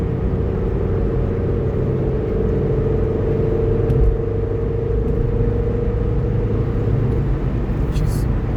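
A Ford Focus engine holds a steady, low, droning note at close range, a constant rumble with a faint sustained tone and no clear break.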